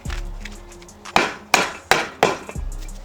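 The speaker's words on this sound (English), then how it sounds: "all I'm doing just taking a piece of board and this sledgehammer" A sledgehammer strikes a wooden board laid over metal raised-bed edging in a garden, driving it into the ground: four loud, close, sharp thuds spaced about half a second apart.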